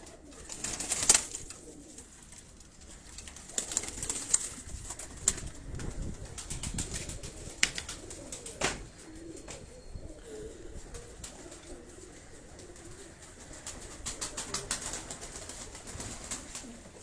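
Pigeons coo softly on a rooftop in Karachi amid faint outdoor ambience, with occasional sharp clicks and brief wing-like flutters scattered through a quiet background.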